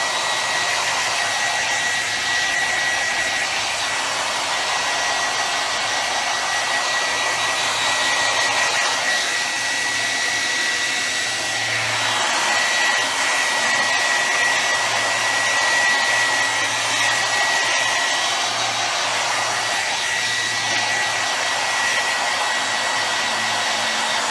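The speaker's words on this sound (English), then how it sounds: "So hair dryer." A hair dryer drying Mod Podge on a craft project blows steadily and loudly throughout, a continuous broadband whoosh with a slight fluctuation in pitch and no voices.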